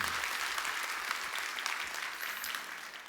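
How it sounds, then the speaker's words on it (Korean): A church congregation at a New Year revival service claps together in a steady, fairly even round of applause from many people, holding for a few seconds and tapering slightly at the end. "마음을 모아서 우리 박수 한번 하시죠."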